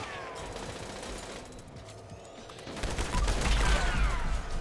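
A Gatling plasma gun fires in Fallout 76 gameplay as a rapid stream of shots that builds louder toward the end, with zapping sweeps over the gunfire.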